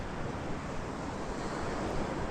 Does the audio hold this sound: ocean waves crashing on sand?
yes